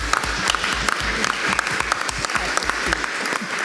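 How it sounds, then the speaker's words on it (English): Brief applause from attendees at a Dummerston town meeting, close and lively with uneven individual claps over a steady crowd wash. "if we can clap for that"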